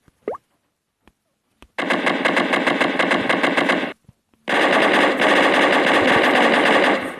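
Two long bursts of rapid automatic AK-47 fire in a Minecraft weapons mod, loud and close, broken by a short pause, with a few isolated clicks before the first burst.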